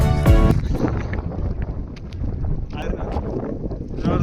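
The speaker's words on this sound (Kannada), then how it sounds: "ಮತ್ತು ಗಾಳಿನ ಗಾಳಿ ಬಿಟ್ಟೈತಿ." Gusty wind sweeps across the microphone outdoors in a park, a steady broadband rumble and rush that persists throughout, with a brief voice near the start.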